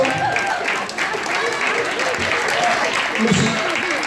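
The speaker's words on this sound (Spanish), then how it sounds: "Dale un fuerte aplauso." Audience at a party in Tampico Alto, Veracruz breaks into sustained, loud applause and crowd noise lasting the whole moment, with voices mixed into the clapping.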